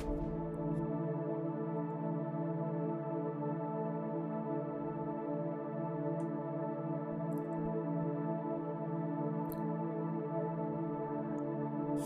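A soft synth pad in FL Studio sustains three-note suspended chords as a steady background layer for an Afrobeat track, held and unbroken throughout at a quiet, even level.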